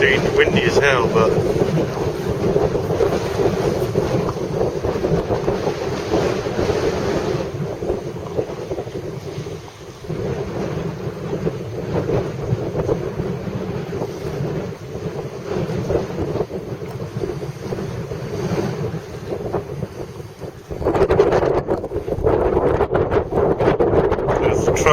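Strong wind blusters across a microphone by the water on the South West Scottish coast while seatrout fishing, a loud continuous roar with gusting swells, waves faintly beneath.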